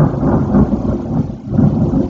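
Thunder rumbling during a storm outside a house, a loud continuous low roll with rain, heard alone and close.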